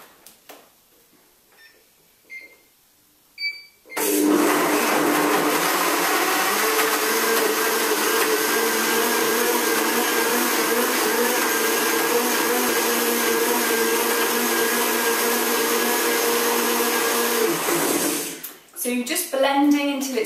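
A blender runs continuously at loud, close range for about fourteen seconds while blending raw spicy tomato soup until smooth, with a few faint clicks before it starts and brief noises after it stops.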